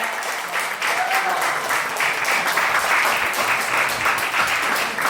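Crowd of wedding guests clapping steadily and loudly for the full stretch, a dense continuous wash of applause.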